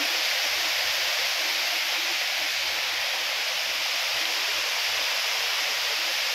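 Encanto Falls in Bikal, Libmanan, Camarines Sur roars as a constant, loud rush of falling water, a broad unbroken hiss with no pauses from start to end.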